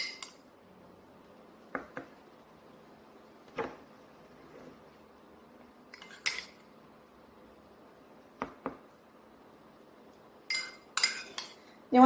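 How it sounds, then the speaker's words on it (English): A spoon clinks and taps against a plastic ice cube tray while scooping fruit into the bottom of the cubes, scattered light clicks and scrapes with quiet gaps between, close and fairly soft. "take a spoon and just scoop a little fruit in the bottom of the ice cubes."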